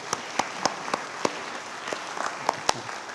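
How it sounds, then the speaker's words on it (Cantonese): Sparse, scattered hand claps from a Baptist church congregation honoring the fathers on Father's Day, individual sharp slaps ringing out at irregular intervals over a quiet room. "我哋俾啲掌聲啲父親嚇。"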